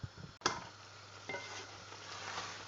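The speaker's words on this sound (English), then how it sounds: "this is going to literally cook for 2 to 3 minutes because we don't want the prawns to go rubbery" Prawns cooking in a pan for prawn biryani, a quiet steady sizzle with a brief stir or clack near the start.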